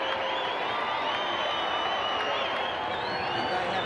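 Crowd cheering and roaring steadily at a 1991 rugby league playoff between Western Suburbs and Canterbury, a dense, continuous wall of stadium noise with no pauses.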